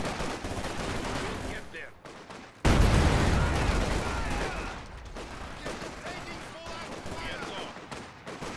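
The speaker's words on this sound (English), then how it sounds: "Infantry shooting at us!" In Company of Heroes 2, infantry gunfire rattles in dense bursts of rifle and machine-gun fire, loud and close, mixed with booms, while voices talk over the battle.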